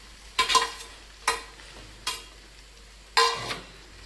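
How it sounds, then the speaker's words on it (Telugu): Fenugreek seeds and onion pieces fry in oil while a spoon scrapes and stirs the pan in four separate bursts, each a short close clatter over a quiet low sizzle. "ఈ మెంతులు ఇలా నూనెలో ఉడికితే బాగుంటాయండి"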